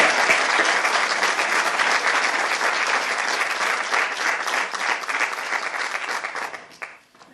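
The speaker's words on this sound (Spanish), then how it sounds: "Por favor, un aplauso para ella." A lecture audience applauds with sustained, even clapping that holds for several seconds and then tapers off and stops near the end.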